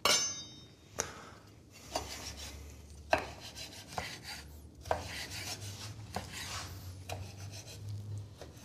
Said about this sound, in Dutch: Kunnen die ook gewoon straks nog extra dun snijden?